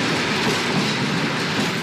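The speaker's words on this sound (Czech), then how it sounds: "Staré Hradlo a jeden z posledních vlaků před rekonstrukcí." A train rolls steadily across the old Negrelli viaduct in Prague shortly before its reconstruction, a continuous loud rumble of wheels and carriages with faint clickety-clack and no voices.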